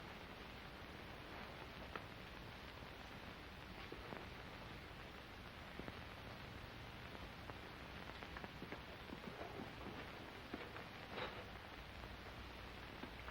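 Steady rain patters softly on a surface, a faint, even hiss with scattered droplet ticks that runs unbroken and without voices.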